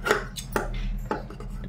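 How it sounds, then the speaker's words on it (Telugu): Scissors cross-cut gold-coloured cloth for a blouse, making three or four crisp snipping cuts close up, separated by short pauses over a low background hum. "ఇది మనం క్రాస్ కట్ చేసుకోవాలన్నమాట."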